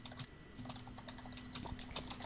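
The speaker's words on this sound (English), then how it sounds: "Somebody is typing." Rapid, irregular clicking of keys on a computer keyboard, steady and fairly close, with a faint low hum in the background.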